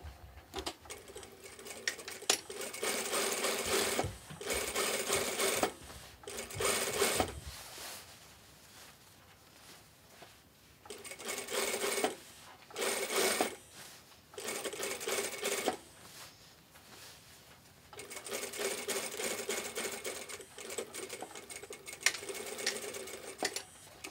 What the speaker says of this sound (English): Keep your seam allowance towards your left side and make a edge stitch